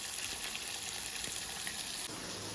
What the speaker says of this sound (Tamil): வாழைக்காய் வறுத்துக்கிட்டு இருக்கேன் எங்கள் பையன் கேட்டதால